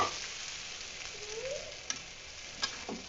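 Mashed potato for potato dal, cooked with turmeric, salt and green chilli, is fried in a pan with a steady close sizzle and a few light taps of a stirring spoon.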